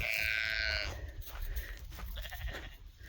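A loud, wavering bleat from a sheep opens, followed by quieter grunts and shuffling outdoor noise.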